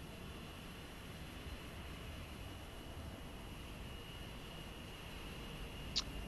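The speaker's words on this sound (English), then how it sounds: "Sounds like we got a plane taxiing up behind us." An airliner taxis behind in Microsoft Flight Simulator 2024, a faint, steady engine whine and broad hum holding evenly throughout with one short click near the end, no talking.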